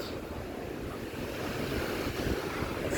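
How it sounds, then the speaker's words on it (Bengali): Sea waves at Hulhumale public beach in the Maldives make a steady, broad wash of surf with wind noise, continuous and fairly soft, with no voices. "সমুদ্রের যে স্রোত,"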